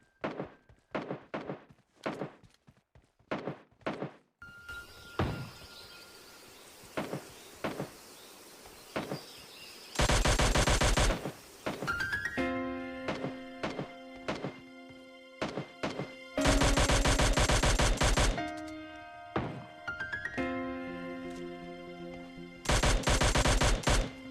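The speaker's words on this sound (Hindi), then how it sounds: "मुझे आ जाता है बॉट की फायरिंग का साउंड" Bursts of bot gunfire in the mobile shooter game PUBG Mobile Lite, mixing sharp single shots with long, loud automatic volleys that come back several times through the match.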